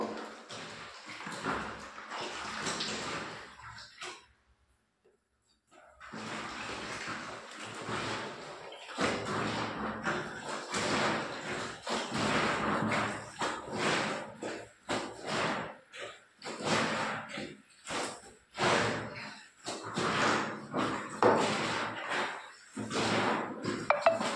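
Clothes soaked in detergent water being washed by hand in a bathroom, with irregular splashing, sloshing and wet slaps in bursts, a brief quiet pause, then continued scrubbing and dunking close by.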